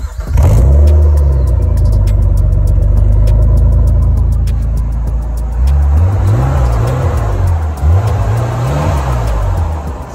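A Nissan R34 Skyline fitted with a limited-slip differential cranks over and fires, then settles into a loud, close, steady engine note with rising and falling revs toward the end.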